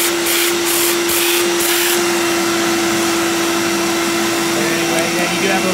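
A Hoover Dial-A-Matic Power Drive U6039 upright vacuum cleaner runs with a loud, steady motor whine and airy suction roar, close and constant throughout.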